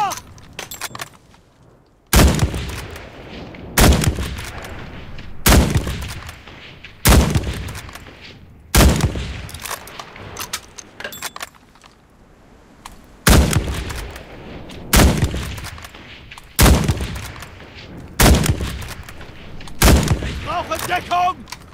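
Kar98k bolt-action rifle shots from the game Enlisted ring out one at a time, about ten sharp, loud cracks spaced roughly every one and a half to two seconds, each followed by a brief echoing tail, with soldier voices shouting in between.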